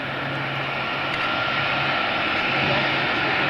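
An aircraft roars past on departure day at Mildenhall, a broad, steady, loud engine rush with no gaps over the whole stretch.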